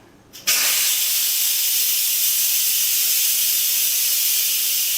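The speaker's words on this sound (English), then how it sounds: "it took about 2 minutes for the steam to release" An Instant Pot venting steam after its valve is switched to venting while cooking chicken and dumplings, a loud, steady, continuous hiss that starts abruptly and holds without pause, close to the listener.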